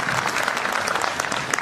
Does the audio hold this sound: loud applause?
yes